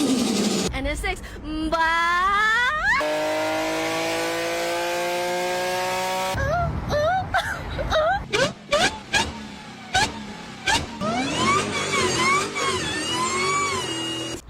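Revving engine from either a Dodge Hellcat or a Mazda RX-7, with rising and falling pitch sweeps, sharp throttle blips and a sustained high wail, loud and close, mixed with other clattering noise.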